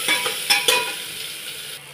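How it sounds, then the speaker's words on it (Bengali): Chopped onions sizzle steadily in a hot pan for a chicken stew while a spoon stirs them, with a few sharp scraping knocks against the pan near the start over a continuous frying hiss. "পেঁয়াজগুলোকেও আমি একটুখানি 1 মিনিট মতন এরকম করে নাড়াচাড়া করে ভাজবো"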